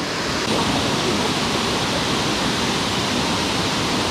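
Steady, loud rushing of a waterfall in Thailand, a dense broadband roar of falling water that holds constant and close throughout with no voices over it.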